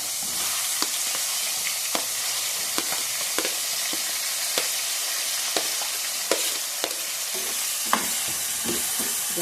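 Onion, green chillies and capsicum fry for upma in a steady, close sizzle, with frequent light scraping taps from stirring through the pan.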